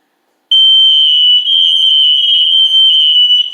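A smoke and carbon monoxide alarm under test sounds a loud, piercing continuous electronic tone that switches on abruptly and holds steady for about three seconds.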